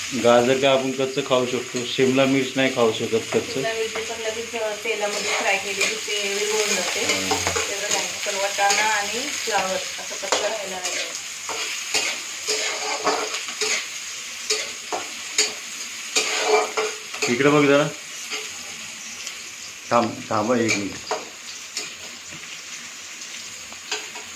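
Cauliflower, carrot and other vegetables sizzle loudly as they fry in oil, with steady stirring scrapes throughout and someone talking over the cooking.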